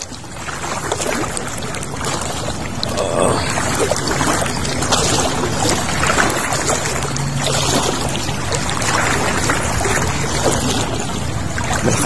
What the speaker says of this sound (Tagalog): Malakas ang agos, hindi natin kaya.